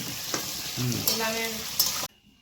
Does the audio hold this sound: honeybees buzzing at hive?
no